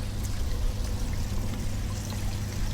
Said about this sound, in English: look at the water coming out of the doors.